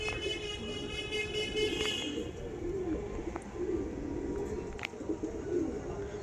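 Andhra pigeons in a loft, with a steady low murmur of cooing and faint scattered calls, close and continuous under a busy background.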